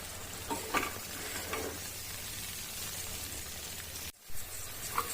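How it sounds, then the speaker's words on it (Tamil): Tomato thokku seasoned with chili powder sautés in a pan over a medium flame. A loud, constant sizzle holds throughout, with faint stirring and a brief dip near the end. "ஸ்டவ் மீடியம் ஃப்ளேமில் வச்சு இது நல்லா வதங்கட்டும்."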